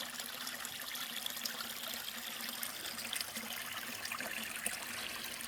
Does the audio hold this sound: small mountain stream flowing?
yes